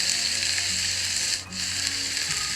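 Sweet corn fries in a pan with a steady, bright sizzle and a brief dip partway through, close and alone without any voices.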